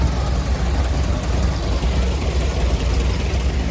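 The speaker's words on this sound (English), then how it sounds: "Here's a John Deere 650 with a 60-mile bucket on the front" A John Deere 650 tractor fitted with a front bucket runs at a steam and threshing show in Sycamore, Illinois, giving a steady, dense low rumble with outdoor wash and no clear changes in pace.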